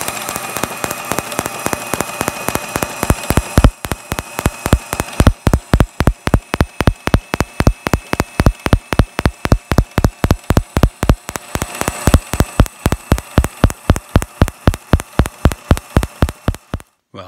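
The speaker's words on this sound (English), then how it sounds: "246C, and I'll get that fired up so you guys can kind of watch it do its thing. It fires and sparks very well." A John Deere Splitdorf 246C magneto fired up on the bench, snapping off a long run of sharp, evenly spaced sparks that speed into a quick steady rhythm over a faint hum, close and loud, with no talking.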